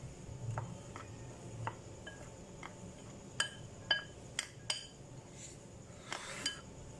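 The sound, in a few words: mixing cornflour in a bowl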